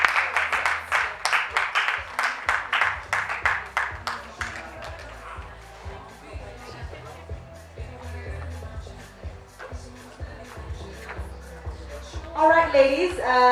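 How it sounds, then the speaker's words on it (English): An audience applauds the panelists at a soirée panel discussion. Steady, dense clapping runs throughout over rhythmic background music, swelling again near the end. "please give them a round of applause"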